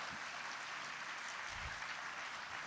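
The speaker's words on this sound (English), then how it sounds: "Please, a great round of applause, ladies and gentlemen." Steady applause from an audience at a fintech festival memorandum signing, an even, continuous wash of clapping heard from a distance at low level throughout.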